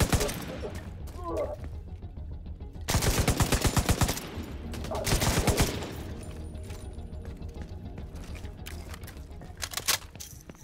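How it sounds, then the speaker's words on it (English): Light machine gun fire in Tom Clancy's The Division: sustained rapid bursts of automatic shots, loud and near, with a quieter stretch of scattered gunfire and movement between the bursts. "I love the LMGs in this game."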